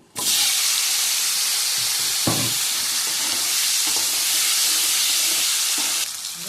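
Ridge gourd and potato pieces hit hot oil already seasoned with chili and bay leaf, giving a loud, steady sizzle and hiss that runs the whole time, with a few faint clatters of stirring and no talking.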